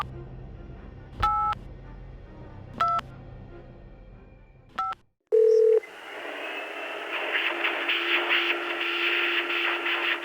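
A phone booth keypad in a video game is dialed with 555, three short sharp touch-tone beeps spaced apart, followed by a brief tone and then a sustained buzzing line tone.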